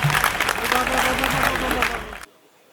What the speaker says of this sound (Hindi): मेरे निवेदन पर छोटी सी तालियां एक बार और हो जाए अखिलेश दादा के लिए